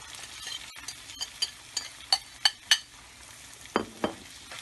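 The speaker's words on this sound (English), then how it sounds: "our pieces of veal are cooking, we added olive oil, garlic, and onions, and we are going to put our peas in." Peas are added to veal pieces frying in olive oil with garlic and onions, a soft sizzle underlying about a dozen sharp, close scrapes and knocks of stirring against the pan.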